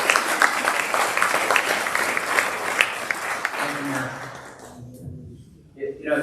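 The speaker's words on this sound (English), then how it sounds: "So we all owe him a big round of applause." Audience applause at a State of the City event, dense steady clapping from a crowd for about four seconds that fades out, followed by a few faint sounds near the end.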